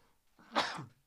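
A single short sneeze bursts out nearby, a brief breathy intake followed by a sharp explosive release, fairly quiet and alone.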